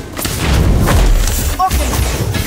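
A deep, booming Sectum Sempra spell effect from the Harry Potter: Magic Awakened mobile game, with a brief chiming flourish near the end, sits in a dense mix of game sounds for about two seconds.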